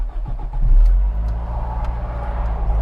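A tuned Toyota MR2 with a 4AGE 20V engine and individual throttle bodies revs hard, a loud, close, continuous engine roar that climbs and holds with no talking.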